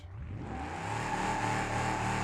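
A tuned car with a modified carburettor in BeamNG.drive accelerates steadily, its engine note rising and revving continuously and loudly throughout, with no talking.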